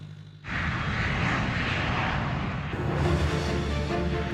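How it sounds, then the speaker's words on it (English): Airbus airliner jet engines swell suddenly into a loud, broad roar that holds steady and grows a little stronger partway through, with no talking. "the Airbus."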